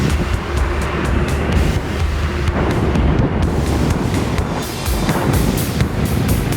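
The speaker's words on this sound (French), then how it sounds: "Il y a du vent, j'ai le vent dans le nez là." Strong headwind roaring and buffeting the microphone continuously while riding an electric fat bike, a loud low rush with rapid rhythmic ticking underneath, no voices.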